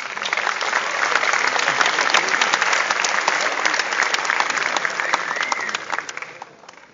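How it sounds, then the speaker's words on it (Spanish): Sustained audience applause fills a crowded Xbox event hall during a raffle for a Lumia phone, dense and steady throughout before tapering off at the end. "Un aplauso para..."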